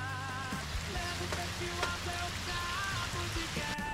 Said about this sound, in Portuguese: tá chovendo, tô aqui debaixo da casinha